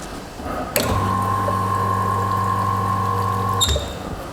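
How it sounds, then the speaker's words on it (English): A Bezzera Aria PID espresso machine with flow control flushes water through its group head, a steady rushing stream with a low pump hum that starts abruptly, runs for about three seconds and cuts off. "now we clean it, we do a little bit of flush."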